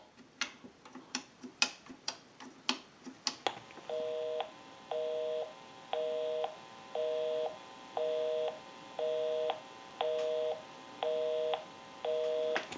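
A quick run of sharp clicks gives way to a string of evenly spaced electronic tones, each repeating at a regular beat as a call is placed on a payphone.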